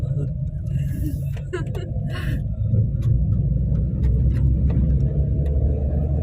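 A car climbs a winding mountain road toward Nainital and pulls out to overtake a Tavera. A steady, close engine rumble runs throughout, with faint voices in the background.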